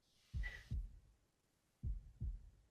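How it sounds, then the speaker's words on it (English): A slowed heartbeat effect in a film soundtrack thumps in two paired lub-dub beats, deep and close, with near silence between them and no music. "And then it's just the heartbeat."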